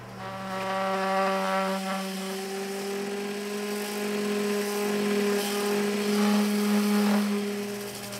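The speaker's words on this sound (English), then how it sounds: "I'll just hit that with a belt sander to bring it right back to that cut line." A belt sander sands a board back to its cut line, giving a steady, moderately loud motor whine with a droning hum that holds throughout.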